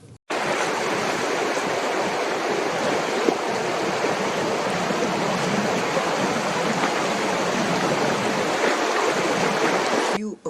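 River rapids at Nameri rush in a dense, steady roar of churning water, loud and continuous throughout.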